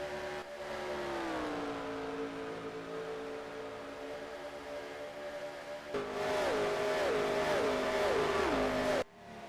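Toyota Supra race cars roar around the Kyalami circuit, their engines droning loud and near. The engine pitch climbs and drops with gear shifts as the cars pass, with no talk over them.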